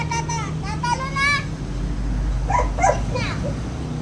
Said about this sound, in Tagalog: Kanina pa tahol tong Starry na to.